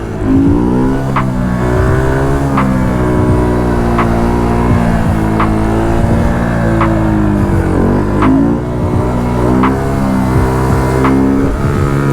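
A car's engine pulls hard in first gear, the loud, close tone climbing and dropping through repeated surges of acceleration, with rhythmic ticks over the roar.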